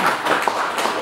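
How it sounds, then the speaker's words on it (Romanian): Applause from an audience at a 2015 film presentation, honoring the director of the film; dense, steady clapping fills the whole second with no voices over it. "trebuie să aplaudăm realizatorul acest film"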